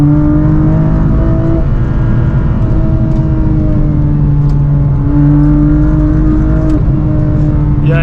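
A BMW M4 F82 accelerates hard in the cabin, its engine a loud, steady drone climbing in pitch through the gear and pulling without letup, with no talking.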